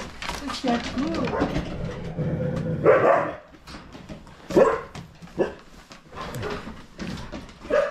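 Several huskies bark and yip in bursts at a husky farm in Sweden, some near and loud, with whimpers and people talking underneath.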